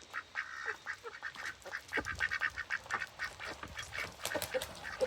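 Farm ducks quack at feeding time in a busy, overlapping chorus of short nasal calls that come thick and fast and grow livelier, with no talk.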